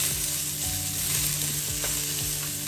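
Garlic fries in a pan with a loud, continuous, close sizzle and faint stirring scrapes, without any talking.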